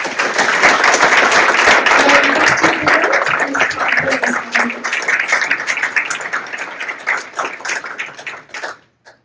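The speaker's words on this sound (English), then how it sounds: "Please give a big round of applause to Dr. Peter Legge." Audience applause at a book launch event, a dense wash of many hands clapping that starts loud and gradually thins out and fades to near silence over about nine seconds.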